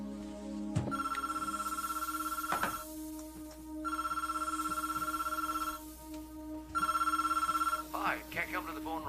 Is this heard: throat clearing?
no